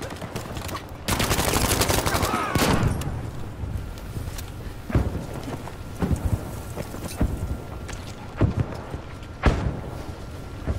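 Heavy artillery barrage and gunfire in the World War II battle royale game Battlefield Firestorm: a long rumbling blast near the start, then scattered sharp shots and booms cracking out irregularly over steady battlefield din.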